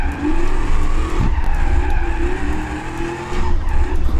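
Car tires skidding through a handbrake slide in the driving game BeamNG.Drive, a loud sustained screech over a steady engine drone, close and continuous for several seconds.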